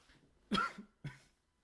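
Two short coughs, the first sharper and louder, the second a bit softer about half a second later, close and otherwise quiet.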